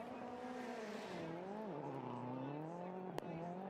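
Global Rallycross race cars spin out as one car is turned around, engines droning with shifting revs and a brief sharp impact-like burst near the end, heard from a distance.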